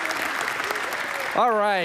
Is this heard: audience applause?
yes